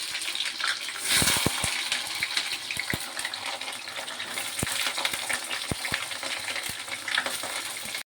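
Potato and drumstick stalk pieces frying in hot mustard oil with black cumin seeds, a bright crackling sizzle with sharp pops and clinks of a spatula stirring against the pan, close by, no talk.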